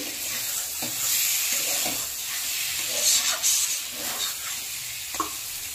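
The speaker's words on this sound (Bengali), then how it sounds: "আলুগুলো দিয়ে মশলার সাথে আরো 2-3 মিনিট ভালো করে কষে নেব" Potatoes sauté with spices in a pan for a light bata fish curry, giving a continuous close sizzle and hiss with soft stirring scrapes throughout and no voices.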